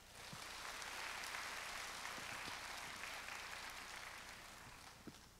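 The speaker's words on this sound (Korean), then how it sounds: "박수 부탁드립니다." Audience at a jazz concert in Jinju applauds in a faint, steady wash of clapping that swells slightly and then tapers, heard from a distance.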